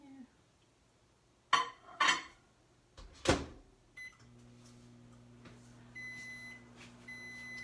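A home microwave oven set to defrost: a few sharp knocks and clunks, then a steady low hum with electronic tones and beeps, heard alone and close by.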